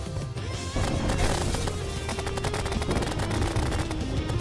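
Streams of bullets fired in Terraria with the Calamity mod: a quiet moment, then a loud, dense rattle of rapid shots that keeps going without a break.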